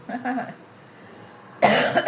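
Brief muffled voice sounds, a quiet pause, then an abrupt loud dry cough close up, harsh and breathy.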